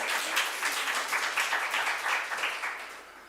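A church youth congregation applauds during a worship service, a dense crowd clapping that stays steady for a few seconds and then tapers off slightly, with no voices over it.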